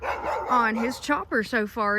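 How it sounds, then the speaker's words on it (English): Dogs bark in a series of short, close barks near the end, overlapping a person talking in a home setting. "Sorry about the dogs barking."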